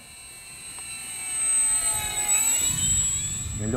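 An XFly Tasman 1500mm-wingspan 4S electric RC STOL bush plane flies low and slow. Its steady motor and propeller whine swells from moderate to louder as it passes near, with broadband wind noise underneath and no talking.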